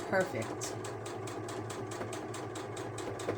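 A sewing machine stitching fabric on a small DIY cord keeper runs at a fast, even, rhythmic pace close by, its mechanical whir steady throughout while a person talks over it.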